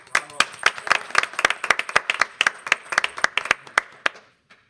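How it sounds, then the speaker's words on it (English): A small audience at a school board meeting gives a round of applause, with distinct close claps in an uneven patter that thins out and stops. "let's give Jason and his team a nice round of applause"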